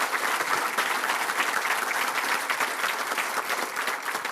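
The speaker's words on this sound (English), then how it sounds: "Can we give all of our recipients another round of applause" Audience applauds award recipients at a regional chamber of commerce annual meeting, a dense and steady round of clapping that carries on through the clip with no speech.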